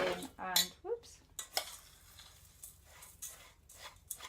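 Biscuit crumbs tipped into melted butter in a pan for a cheesecake-style base, giving close clatters, scrapes and light rattles against the pan, busy at the start and then thinning to sparse scraping.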